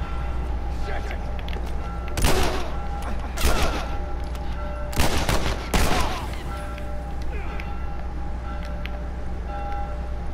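Gunshots in The Last of Us Remastered video game: a few sharp, loud shots spaced apart over a steady background hum, with faint game ambience between them.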